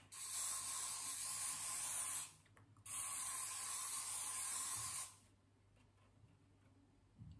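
A can of hairspray fires two loud, hissing bursts onto a soft pastel drawing, about two seconds each with a short gap between them, then goes quiet apart from faint handling sounds.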